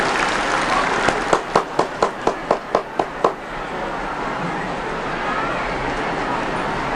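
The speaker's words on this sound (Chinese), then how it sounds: "请大家以热烈掌声来彰显" A short run of about ten sharp, evenly spaced claps rings out at a temple inauguration ceremony in Tainan, then fades into a hushed hall with low background murmur.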